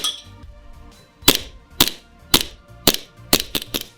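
An ICS Korth PRS gas blowback airsoft pistol fires seven sharp, close, loud shots in an uneven rhythm, with quiet gaps between them.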